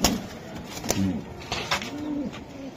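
Budapest racing pigeons give a few distinct rising-and-falling coos, close by, broken by short clicks and rustles, with a voice briefly present.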